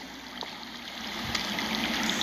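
Underground water flowing in the Game of Thrones video game, a soft, steady trickle and gurgle at low level, with faint clicks and drips scattered over it and no voices.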